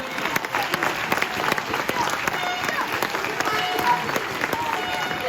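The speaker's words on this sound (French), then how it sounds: "Vous pouvez les applaudir." An audience at a youth U12 sports tournament medal ceremony applauds the referees, dense steady clapping from many hands filling the room, loud and sustained throughout.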